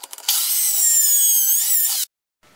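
A power drill whines steadily for about two seconds as a screw is driven into a rustic wooden bench, close and loud, then cuts off abruptly.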